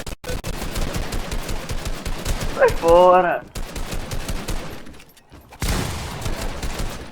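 Rapid bursts of Fortnite gunfire crackle in dense volleys, broken by a brief electronic tone and short pauses, with a voice speaking over part of it.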